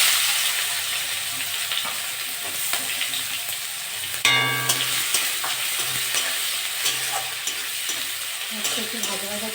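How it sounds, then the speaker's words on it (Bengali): Sliced onions hit hot oil already fried with cardamom, cloves, cinnamon and bay leaves for a soybean, potato and pointed gourd curry, giving a steady, loud sizzle with occasional spatula scrapes and stirring clatter. "আমি এবার পেঁয়াজ দিয়ে দেবো।"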